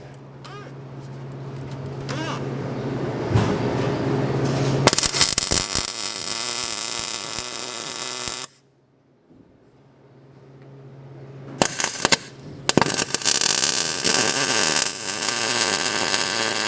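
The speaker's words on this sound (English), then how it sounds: "So we're gonna put some nuts on there and weld the nut to the bolt." Welding nuts onto seized bolts on a Kenworth W900 truck, with loud, crackling, hissing arc bursts that start and stop, separated by a quiet pause, heard up close.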